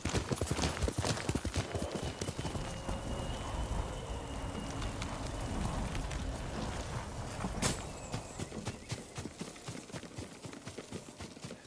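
Horse hooves clop steadily in the video game Ghost of Tsushima, a dense run of close hoofbeats against a rain-like hiss, loudest at the start, with a sharper knock near eight seconds.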